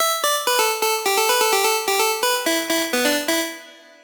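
A bright colour house synth lead plays a melody of about a dozen punchy, evenly spaced notes, stepping up and down, then rings out and fades at the end; no voices.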